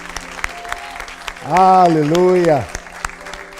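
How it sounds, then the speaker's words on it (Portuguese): Clapping from a church congregation during a worship service rises under a loud, drawn-out shouted exclamation in the middle, then thins back to scattered claps. "Quem crê, aplauda Jesus"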